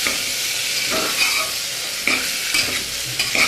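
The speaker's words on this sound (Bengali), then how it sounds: "এবারে সবজিটাকে 1 মিনিট মতো ভেজে নেব" Vegetables for a vegetarian khichuri fry in hot oil, giving a loud, continuous sizzle close by, with a few sharp scrapes and clinks of the stirring spoon against the pan.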